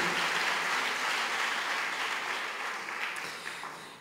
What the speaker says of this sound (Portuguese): Vamos dar uma salva de palmas para o Senhor